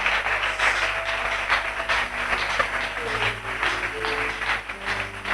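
A church congregation applauds steadily during a worship and praise service, a dense, continuous patter of clapping at moderate distance for several seconds, with no voices standing out.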